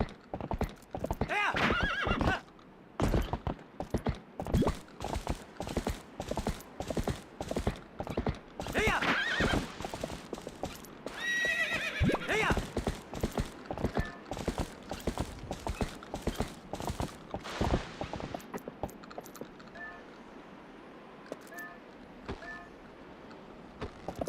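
Horse trotting in The Legend of Zelda: Twilight Princess, its hooves beating a steady, close clip-clop rhythm for most of the stretch, with a couple of whinnies mixed in before the hoofbeats thin out toward the end.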